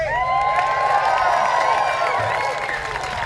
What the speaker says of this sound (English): You keep clapping and I can recompose myself and go on.